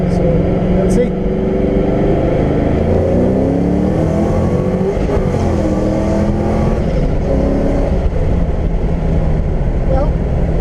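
A supercharged 1999 Camaro Z28 driving over rough, bumpy road, its engine droning and shifting in pitch as it accelerates, loud and close from inside the car, with people talking over it.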